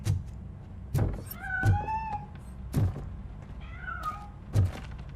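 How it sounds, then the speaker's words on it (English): A cat meows in the video game RoboCop: Rogue City, two drawn-out rising cries between sharp thumps and knocks, close and clear with no talk. "That cat must be hiding inside."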